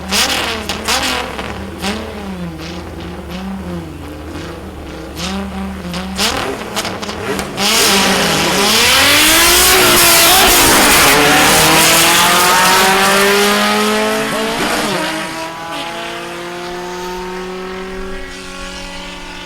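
A chop-top old-school VW Beetle on two Weber carburetors launches down a drag strip at the VW Nationals, its engine revving hard through rising gear sweeps with a tyre chirp, loud and close, then fading as it pulls away.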